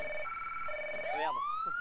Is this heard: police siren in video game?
yes